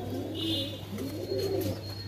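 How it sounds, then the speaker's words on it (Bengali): A kaldom pigeon at a pigeon farm in Nabadwip gives a few soft, close coos over a low steady background hum. "দেখতে পাচ্ছ এটা কালদম পায়রা"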